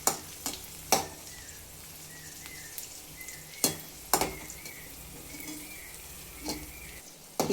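Raisins frying in ghee for beetroot halwa, a soft steady sizzle with several sharp clinks of a spoon stirring against the pan, heard close and fairly quiet.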